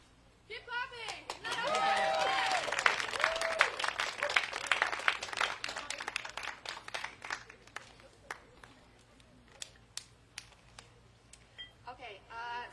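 Applause greets a guitarist at a small summer concert: a brief voice, then a modest crowd's clapping swells and slowly thins to sparse, distinct individual claps, with faint talk near the end.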